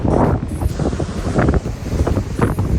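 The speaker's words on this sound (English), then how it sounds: "I know I wasn't audible through the gushing sound of the wind" Strong wind gusts buffet the microphone beside a lake in Alaska in July, a loud, continuous low roar that swells and eases without pause.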